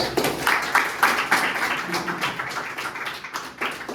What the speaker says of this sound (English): clap for Neha